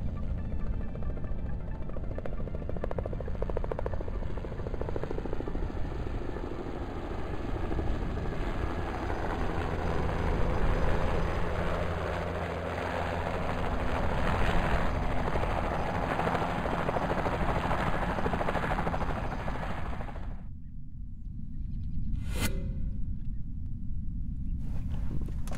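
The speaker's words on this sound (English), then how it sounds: "Helicopter's on its way, love." Helicopter in a video game arriving at an accident scene, a steady loud rotor drone and engine whine holding throughout, then cutting out abruptly near the end with a brief tonal beep.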